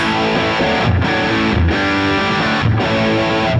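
Electric guitar driven hard through distortion pedals with the volume pedal fully open, a thick, saturated sustained tone with chords re-struck roughly every second, loud and alone.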